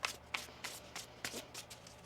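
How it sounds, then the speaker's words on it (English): Tarot cards are shuffled by hand in quick, soft riffling bursts, about seven of them spaced across two seconds, close and quiet, with no one speaking. "Okay, one more shuffle here."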